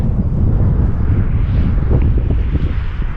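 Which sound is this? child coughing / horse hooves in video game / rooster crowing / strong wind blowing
strong wind blowing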